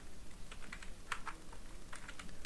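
Someone types a product name on a computer keyboard while building a GST report in Excel: a quick run of light, soft key clicks at an uneven pace, faint and close, ending in a sharper louder tap, with no talking.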